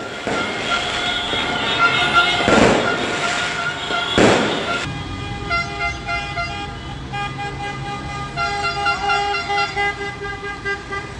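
Two loud firework bangs burst out amid a noisy street celebration in Torre del Greco, Italy, followed by long blaring horns and toots sounding over the crowd.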